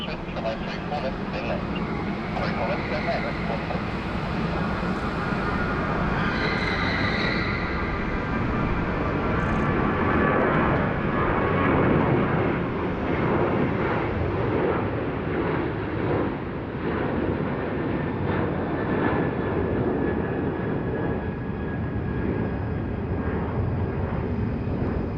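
An airliner departs Sydney Airport, its jet engines giving a loud, steady broadband roar that holds for the whole stretch with a rising whine near the start, while a voice talks over it.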